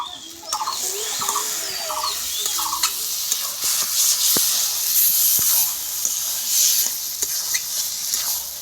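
Vegetarian kochu saag, taro leaves, sizzling and hissing in a pan while being stirred, with scraping clinks of the spatula against the pan and a steady frying hiss throughout.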